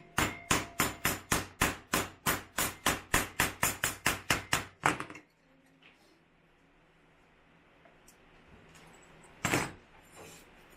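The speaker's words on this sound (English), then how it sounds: "So we'll just use a hammer to sharpen up the corners." A hammer strikes the corners of a metal tripod mount bracket in a fast, steady run of about fifteen close, ringing blows, followed by quiet handling noise and one last louder knock.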